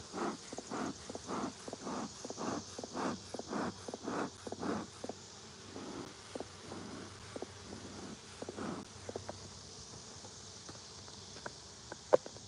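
Honeybees buzzing around a hive in a 200-year-old cedar tree, a faint outdoor hum with a series of rhythmic rustling steps or thumps over it, fading toward the end.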